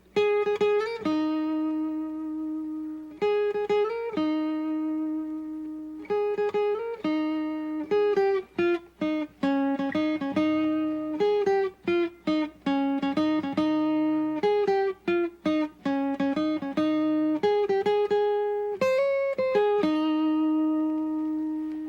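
Electric guitar plays a bright Mixolydian scale run, clean single notes with a steady melodic rise and fall, some brief pauses between phrases, no voices.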